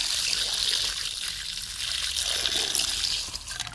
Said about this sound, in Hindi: तो चलिए एक पानी से हम और साफ करके धो लेते हैं मछली को।